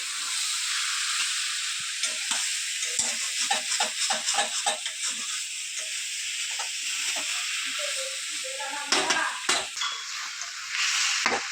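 Desi catfish curry with turmeric and a spoon of sugar fries and sizzles in a pan as a spoon stirs it, steady hissing under rhythmic scraping and knocking strokes, with louder clatters near the end.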